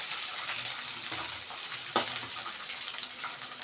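Slit green chillies fry in hot oil in a pan with a steady, close, hissing sizzle, broken by a few faint crackles and soft stirring scrapes.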